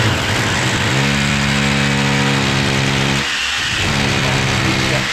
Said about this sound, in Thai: เจาะตามนี่เลยครับ